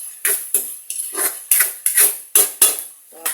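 Onion and tomato being sautéed in a pan, heard as a series of sharp metal utensil scrapes and clanks against the pan, about ten strokes in an uneven rhythm, close and loud over a faint sizzle.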